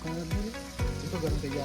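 Cumin and whole spices such as cinnamon crackle as they hit hot oil for a tempering in a village kitchen, a soft steady sizzle broken by a few sharp clattering knocks, faint and close with no speech.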